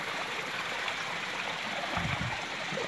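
A river fed by two small streams rushes in a steady, broadband wash of flowing water, constant and moderately near, with slightly heavier gurgling toward the end.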